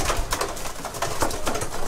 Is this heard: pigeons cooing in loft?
yes